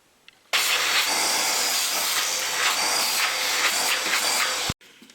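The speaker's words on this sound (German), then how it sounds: "Die letzten Bohnen und die allgemeinen Reste entfernt am besten mit dem Staubsauger." A vacuum cleaner sucks leftover coffee beans and grounds out of a Saeco Vienna coffee machine: a loud, steady roaring hiss that starts abruptly, holds for about four seconds, then cuts off sharply.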